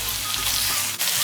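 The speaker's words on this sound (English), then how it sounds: "we're gonna put it on a high heat and let everything fry together" Lamb pieces frying together with curry masala in a karahi over high heat, giving a bright continuous sizzle and crackle like rain on a hot surface, steady and close with no talking.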